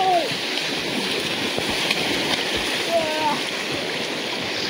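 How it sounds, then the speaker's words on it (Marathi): Strong river water flows in a steady, full rushing wash with light splashes, loud and close, with a few brief voices. "गाईज मजबूत असं पाणी आहे"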